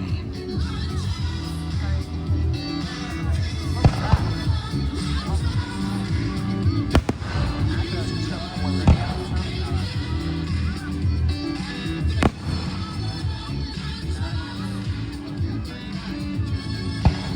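A fireworks show bursts over Lake Hartwell during a pre-Fourth of July celebration, with scattered sharp booms and crackles through a steady wash of crowd babble and talk from nearby onlookers.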